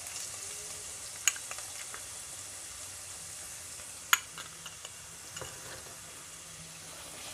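Onions fry in a pan for a Kerala-style aloo palak, giving a soft, steady sizzle broken by a few sharp clinks and taps of a spoon stirring.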